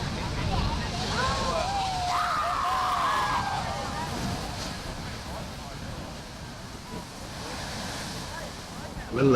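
Large waves surge at Kiama Blowhole on the New South Wales coast as a steady roar of surf and aerated water, mixed with wind on the microphone and people talking in the background.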